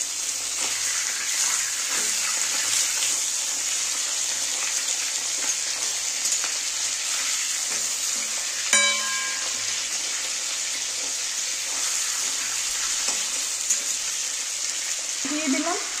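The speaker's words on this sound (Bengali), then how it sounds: "তেলটা গরম হয়ে গেছে, মাথাগুলো এবার ভেজে নেব আমি" Katla fish heads, rubbed with salt and turmeric, fry in hot oil with a steady, moderate hiss that runs throughout. A brief clatter sounds partway through, and there is no talking.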